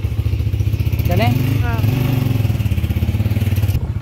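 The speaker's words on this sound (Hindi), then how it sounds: "अब हम निकल पड़े हैं बाइक पे" A motorcycle engine runs with a steady, throbbing mid-pitched drone while riding, close to the microphone, with a voice briefly heard over it.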